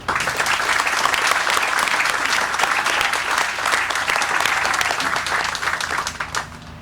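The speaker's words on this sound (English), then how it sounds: "Please join me in a round of applause." A large audience at a military change of command ceremony for an aviation brigade applauds steadily, a dense, even wash of clapping that holds for several seconds before starting to thin near the end.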